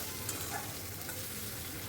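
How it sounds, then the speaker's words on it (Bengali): Tomato wedges frying in hot oil with a little salt, a steady close sizzle with faint stirring scrapes throughout. "এবারে তেলের মধ্যে টমেটোগুলোকে একটু ভাজা ভাজা করব"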